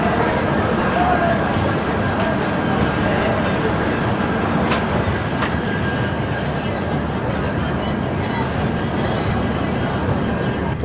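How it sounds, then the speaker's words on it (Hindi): A Mumbai–Chennai express rumbles along at slow, stop-start pace, heard from inside a 3AC sleeper coach: a loud, steady broadband roar of wheels and carriage with occasional faint metallic clicks, no voices. "ट्रेन का भी रन कोई ख़ास नहीं, बहुत slow stop start kind of चल रही है"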